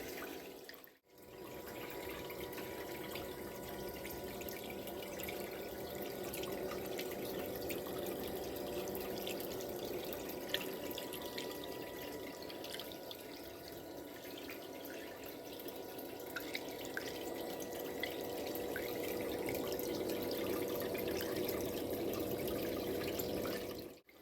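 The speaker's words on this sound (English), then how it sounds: "we got that pan all empty and run through the cleanup sluice" Water runs steadily through a gold panning cleanup sluice outdoors, a soft continuous trickle and splash with small drips, fairly faint and unbroken for the whole stretch, with no talking.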